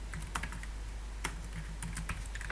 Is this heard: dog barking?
no